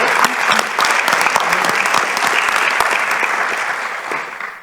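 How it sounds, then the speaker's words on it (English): An audience at a foundation event claps steadily and loudly for a speaker being welcomed to the stage, a dense, sustained round of applause that fades slightly toward the end. "Let's give a round of applause to Paul Gothold."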